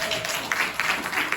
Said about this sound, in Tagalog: Kaya palakpak sa Lord.